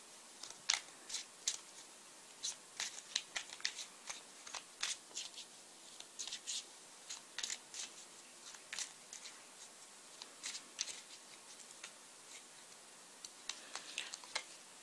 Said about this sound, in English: let's pick some clarifying cards for these